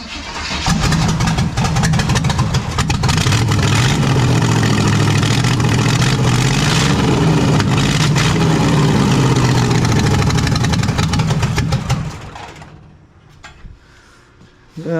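A bagged 1972 Mazda with a NASCAR V8 and a carburetor needing cleaning runs loud and close, rumbling and revving steadily for about twelve seconds before the engine cuts out.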